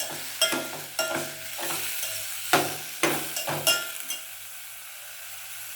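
Bitter gourd and onion sautéing in a pan, stirred with a spatula: a soft sizzle underneath, with repeated sharp scrapes and clinks against the pan at an uneven pace and no talking.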